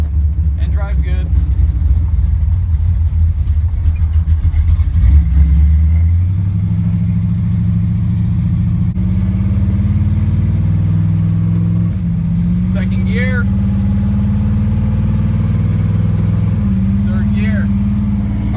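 A 1967 Dodge Coronet's engine rumbles close and steady as the car pulls away, its low drone rising through the gears with brief shifts, while voices talk over it.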